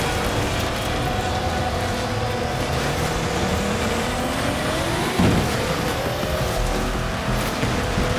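A 6x6 army truck built for the Australian Army, driven in Forza Horizon 4, gives a loud, steady engine drone that holds throughout, with one brief thump partway through.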